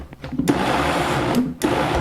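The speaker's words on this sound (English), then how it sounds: "you can hear the motor having to work harder" A blender motor strains as it blends a thick raw pie crust, a close, loud whirring drone with brief dips and surges as the load shifts.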